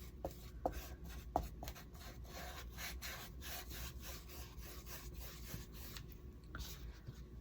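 A brush drags back and forth over furniture, laying on sage green paint in a steady, quiet rhythm of soft rubbing strokes, close up with no talking.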